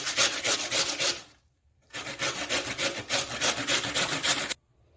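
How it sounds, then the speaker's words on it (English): Potatoes are rubbed over the medium side of a grater in quick, rhythmic rasping strokes, close and loud, with two bursts of scraping separated by a short silent pause. "Now I've finished grating the potatoes."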